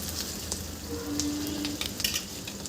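Chopped onion frying in a pan with chilli for a radish leaf bhaji, a steady close sizzle with a few clinks and stirring scrapes, no talking.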